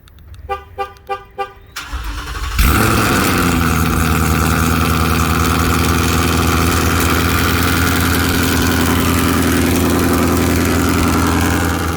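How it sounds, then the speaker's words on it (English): A few quick electronic chirps, then a 2018 Ford Mustang GT with a Corsa exhaust cold-starts, cranking and roaring to life, settling into a loud, steady, rumbling high idle. "let's go ahead and get the cold start on my car going"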